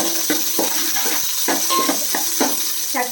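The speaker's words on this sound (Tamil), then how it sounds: "வெந்தயம் போட்டுட்டு கொஞ்சம் வதக்கி விடலாம்" Fenugreek seeds sizzle in a hot pan for a Kerala-style fish curry, with repeated clinks and scrapes of a spoon against the pan over a steady frying hiss. Close and moderately loud, with no talking.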